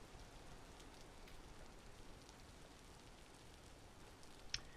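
Steady ambient rain in the game Vintage Story, a quiet continuous wash of drops pattering on surfaces with a few brighter ticks and one sharp drip near the end, no talking.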